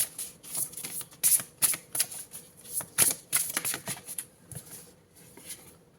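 Tarot cards being shuffled by hand, a rapid series of crisp riffling and slapping bursts close up, uneven in rhythm, with brief pauses between handfuls.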